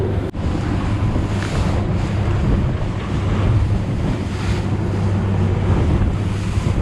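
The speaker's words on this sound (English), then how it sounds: "the tide's coming in heavy and the wind's blowing from onshore, creating some pretty good little swells for a flatboat" Strong onshore wind and choppy swells slap around a flatboat on an incoming tide, with loud continuous wind buffeting the microphone over the rushing surge of waves and no voices.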